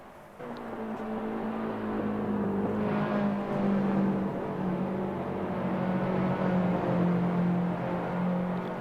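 A race car engine on an outlap at Laguna Seca in Assetto Corsa, a steady onboard drone that rises and eases with throttle, sustained and fairly loud without talk.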